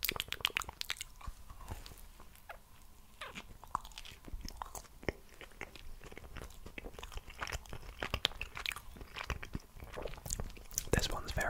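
Someone bites into and chews a Krispy Kreme caramel iced donut close to the microphone, with soft, sticky squishes and crunchy clicks scattered throughout and faint whispered sounds mixed in.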